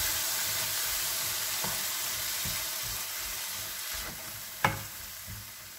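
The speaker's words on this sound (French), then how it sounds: "Je vais y mettre ma demi-boîte de tomates pelées." A half can of peeled tomatoes goes into a hot pan for Mexican-style cauliflower rice, giving a steady, loud sizzle with stirring scrapes and one sharp clink near the end.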